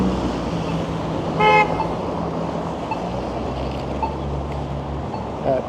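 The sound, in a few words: pickup truck honking at a cyclist turning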